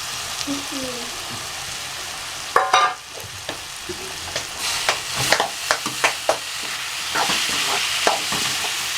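Fish pieces stirred into sautéed onions in a hot pan, with a faint hum at first, then a run of quick spoon scrapes and clinks over a steady close sizzle, no voices.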